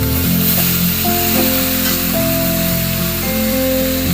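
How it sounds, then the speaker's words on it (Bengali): Boiled banana flower tipped into a hot pan, a loud continuous sizzle and spray of frying close by, with faint musical tones in the background. "এবার মোচাগুলো ওতে দিয়ে দেবো আমি,"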